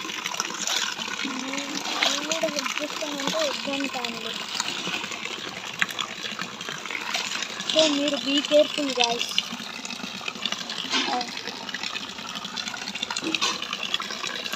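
Floodwater gushes and splashes as it is poured out of a flooded house, a steady watery wash running under a person talking throughout.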